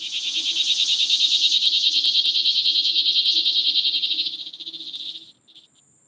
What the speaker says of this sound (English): Oh, we heard your cicadas there for a second.